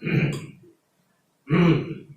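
Two throaty clearing sounds from a man, each a rough guttural burst lasting about half a second, close and clear, separated by a brief silence.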